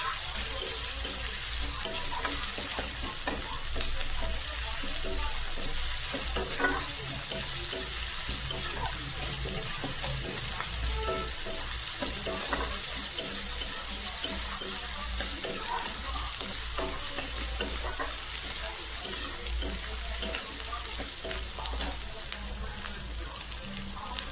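Chopped onions frying in a pan for paneer chilli, a steady close sizzle with frequent light scrapes and clicks of stirring throughout, running on alone without talk.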